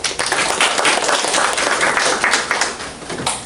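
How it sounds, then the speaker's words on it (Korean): An audience at a Korean church talk gives a short burst of dense, steady clapping that fills the whole moment, close and fairly loud, then tapers off at the end. "박수 한번 할까요?"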